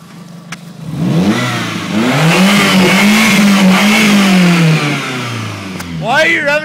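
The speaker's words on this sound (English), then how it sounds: "Why are you revving it so fucking high?" A 1995 Toyota Celica GTS with no exhaust revs hard and high, its raw engine note climbing and swelling in repeated loud pulls, close up, with voices talking over it.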